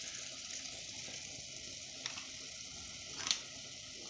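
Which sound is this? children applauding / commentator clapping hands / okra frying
okra frying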